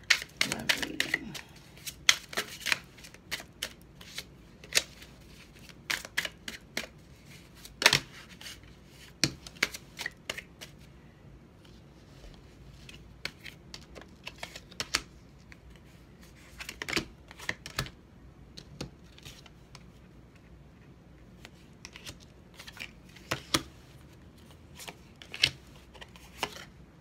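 Cards are shuffled quietly for a reading, with scattered soft riffling clicks and taps coming in uneven clusters over a long, near-silent stretch.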